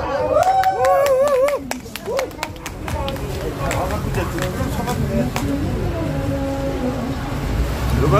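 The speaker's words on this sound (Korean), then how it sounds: "다 함께 큰 박수로 다시 한번" A crowd at an outdoor Lee Jae-myung campaign rally at a coastal passenger ferry terminal gives a burst of applause. Scattered claps mix with crowd noise, and voices and amplified speech continue over it.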